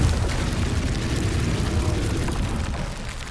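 A Confringo spell detonates in Hogwarts Legacy on PS5, giving a loud, sustained booming roar that fills the whole stretch with dense rumble and fades slightly at the end.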